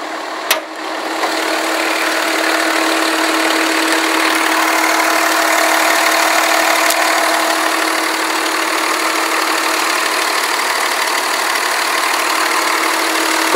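A 2004 Dodge Ram 2500 SLT 4x4 with a 5.9L Cummins diesel and cold air intake idles in a steady, even rumble after a brief click at the start, with no talking.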